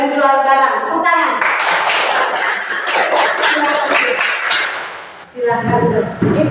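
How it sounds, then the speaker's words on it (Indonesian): A class claps hands together in a fast, rhythmic burst lasting a few seconds, loud and close, with voices before and after. "Tepuk tangan."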